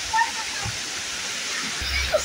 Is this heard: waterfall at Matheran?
yes